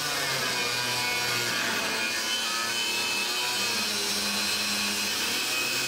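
Flooring for a camper van's floor is sawn to size, a close, continuous rasping saw noise that holds steady and fairly loud without pause.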